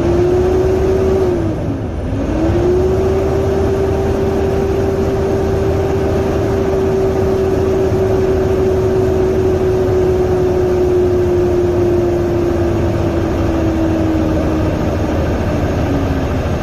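A Cummins diesel engine in a Kenworth T680 truck with a DPF regeneration problem: a steady, loud engine hum with a brief dip, then a sustained raised-rpm tone that slowly sags toward the end.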